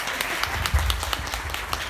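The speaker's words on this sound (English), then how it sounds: "Clap then." A small audience at a talk on literature in English gives a light, scattered round of hand claps, soft and thin throughout with a few slightly sharper claps.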